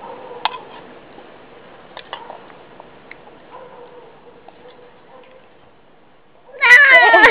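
A child imitates a kitten with a burst of loud, close meows near the end, after several seconds of quiet household clicks and small knocks.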